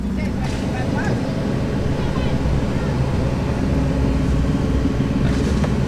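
A modified Daihatsu Ayla running a 1800cc engine idles with a dense, continuous rumble, steady and close, while someone talks over it.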